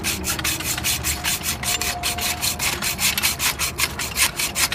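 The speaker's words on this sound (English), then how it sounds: "we always cut this one manually because the pipe is helical, and the hacksaw wants to kind of go around the helical of the pipe" A hacksaw cutting by hand through a 2-inch helical Brugg Secon-X pipe, with rhythmic back-and-forth rasping strokes, about four per second, loud and close, with no talk.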